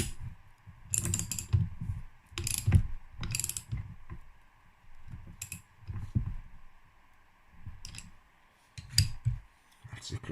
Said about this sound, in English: Slide the clutch basket on.